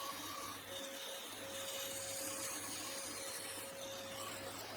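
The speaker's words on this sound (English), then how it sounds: "And then we're over to the bandsaw and I cut out that centerpiece." A bandsaw cuts out a wooden centerpiece for a chuck spanner, giving a steady whine over a continuous hiss that holds for about five seconds with no talking.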